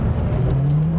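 A V10 gated Lamborghini accelerates in first gear on snow, its engine note climbing steadily in pitch, loud and close, with a rough rumble underneath and no talking.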